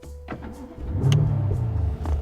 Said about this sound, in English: So I'm gonna start my car.